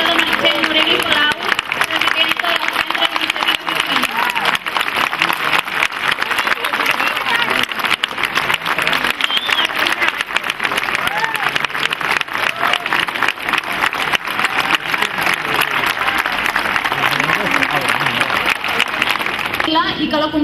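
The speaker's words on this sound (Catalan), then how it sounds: "Per això demanem un càlid aplaudiment a la nostra pubilla 2009, Míriam Saez Massa" Warm, sustained applause from an audience at the Ripoll pubillatge election as the 2009 pubilla arrives, dense steady clapping lasting about twenty seconds with some crowd voices mixed in.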